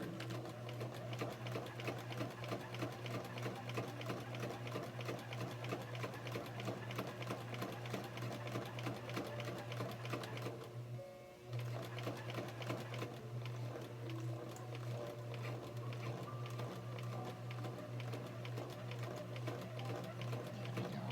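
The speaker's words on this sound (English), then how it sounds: "Now go back a little bit to reinforce that seam. Now going forward." A sewing machine runs continuously, stitching forward, backing up to reinforce a seam, then stitching forward again, with a steady rapid mechanical whir and a brief dip partway through; no talking is heard.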